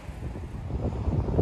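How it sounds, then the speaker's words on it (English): Gusty outdoor wind buffeting a microphone beside a 2020 Jeep Gladiator Rubicon, a close low rumble that swells and builds toward the end, with no talk. "Sorry guys, it is a little windy today."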